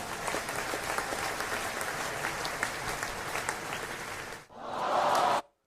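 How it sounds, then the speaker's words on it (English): Studio audience breaks into sustained applause to welcome a guest onto a talk show, a steady wash of clapping that dips briefly near the end, then swells loud again before cutting off. "Applause."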